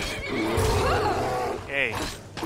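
A horse in the video game Skyrim gives a whinnying neigh with rising and falling pitch, close and fairly loud, briefly overlapping a man's speech.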